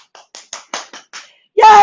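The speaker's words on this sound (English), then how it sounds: "give yourself a round of applause" A handful of sharp hand claps ring out one after another at an even pace, close and loud, with a burst of cheering voice right after them, at the end of a workout session.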